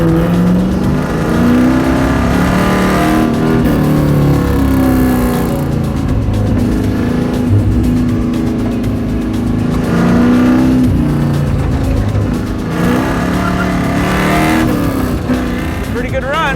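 A Firebird race car accelerates down a track, its engine rising in pitch through several loud, continuous pulls close by, with a voice talking over the engine noise.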